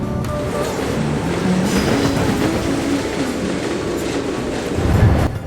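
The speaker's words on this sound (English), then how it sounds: "Not a moment sooner after Lily spoke did Sean, Kara, Top Hat, and a Dash 9 arrive in the yard of a heavy train." Diesel locomotives, including a Dash 9, pull a heavy train into a rail yard, rumbling steadily nearby with clattering wheels and a low engine drone, swelling briefly louder near the end.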